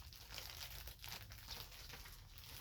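A plastic package of Northland Spiral yarn is opened by hand, giving faint, close crinkling and light tearing of plastic with no talking.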